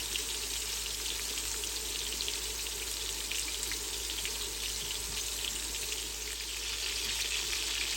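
Beef pieces browning in a hot frying pan, a steady dense sizzle and crackle throughout, close and continuous with no talking.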